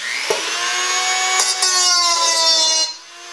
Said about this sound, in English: I have better control with this Dremel.